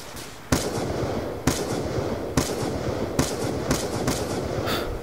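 Gunshots in a Call of Duty Black Ops 2 one-on-one match ring out as about seven sharp, spaced bursts over a constant game background hum.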